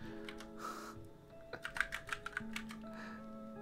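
Quick bursts of keystrokes on a computer keyboard during a coding session, a run of sharp clicks clustered in the middle, fairly close over a quiet steady background hum.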